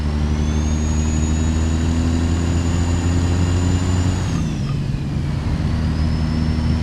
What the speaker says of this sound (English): you can almost hear the engine kind of stays where it's at, but that turbo kicks in